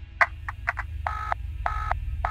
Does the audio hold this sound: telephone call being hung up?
yes